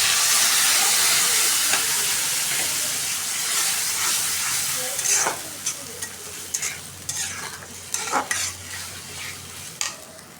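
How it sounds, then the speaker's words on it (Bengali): Ground spices with bay leaf, cinnamon, cardamom and browned onion sizzle and fry in a pan with meat, a steady hiss broken by scraping stirring strokes that grow more distinct toward the end. "মশলাটা কষে নিতেছে, বুঝছেন কত সুন্দরভাবে মশলাটা কষানো হয়ে গেছে"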